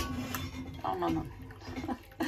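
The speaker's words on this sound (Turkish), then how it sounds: "Demliğe vurdum çaydanlığı, iyi mi?" A metal kettle knocks against a teapot while tea is poured, giving a couple of short, close clinks set against quiet murmuring and faint kitchen noise.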